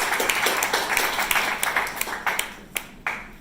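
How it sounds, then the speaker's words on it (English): Audience applause with scattered hand claps rings out for a regional councillor at an inauguration event, dense at first and then thinning into a few sharp, separate claps before fading. "Big round of applause for Zishan."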